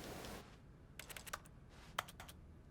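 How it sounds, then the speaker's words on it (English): Keyboard clicks sound in The Stanley Parable video game, two short bursts of several quick taps, each group of keystrokes crisp and close over a quiet background hiss. "Every time I click, you hear like keyboard sounds"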